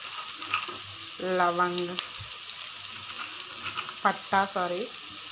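Onions fry in oil with a little salt, whole spices added to the pan, giving a steady background sizzle while someone speaks over it in short phrases.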